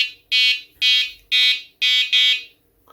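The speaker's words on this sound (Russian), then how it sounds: "он сигнализирует, и пейджер у вас издает звуковой сигнал" Five loud, high-pitched electronic beeps from an ND New Direction N1 Smart Bite Alarm Set receiver, evenly spaced, the last two close together, with no talking.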